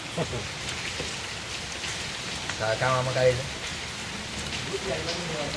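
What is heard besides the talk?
rain falling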